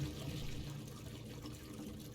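Liquid poured in a video game, a soft continuous watery trickle at low level lasting a couple of seconds, with no talk over it.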